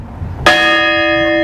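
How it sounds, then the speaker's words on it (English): An old school bell at the historic 1822 Hunter House, struck once loudly after a quiet moment and left ringing with a long, bright, sustaining tone that fades slowly. "I get to ring this bell"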